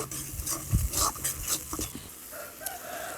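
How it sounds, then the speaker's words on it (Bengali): A spoon working through fried masala spice paste in a pan for Bengali small puti fish curry, with irregular scraping strokes and soft sizzling close by, alone without talk. "দিয়ে মশলাটাকে ভালোভাবে নাড়চাড় করে নিচ্ছি"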